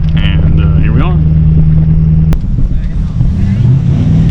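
A Ford Powerstroke diesel truck engine idles with a steady low, loud rumble close by, while people talk over it throughout.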